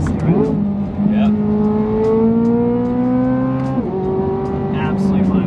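A 2023 Corvette Z06 on its stock exhaust revs hard and loud, with pitch climbing steadily through a long pull, a brief dip at a shift, then climbing again, all heard up close from inside the car.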